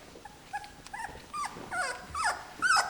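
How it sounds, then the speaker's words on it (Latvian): Litter of 16-day-old German Shorthaired Pointer puppies making high, thin yips, whines and little squeaky barks, several overlapping calls growing busier toward the end, close by. "Dažreiz mēs jau smuki rejam, un dažreiz sākam arī daudzīties ar brāļiem un māsām."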